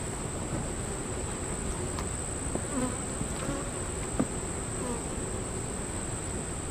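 Honeybees buzz inside an open beehive during a frame inspection, a dense continuous drone close up with a steady high hum running throughout.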